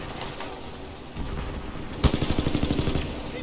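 Rapid automatic fire from an R9 gun in Titanfall 2, opening with softer shots and then a dense burst of fast, evenly spaced bangs through the second half, loud and close.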